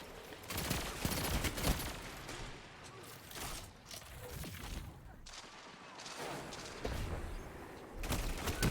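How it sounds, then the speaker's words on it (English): Rapid, dense gunfire from a Destiny 2 firefight, with shotgun blasts among loud bursts that keep going almost the whole time and drop off briefly in a couple of short gaps. "I shot him twice with the shotgun."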